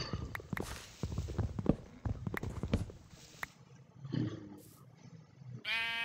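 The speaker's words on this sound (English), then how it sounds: "I hear little things in the background called sheep." Sheep bleating in the Minecraft video game, several short bleats and footstep-like clicks in the background, with a louder burst near the end.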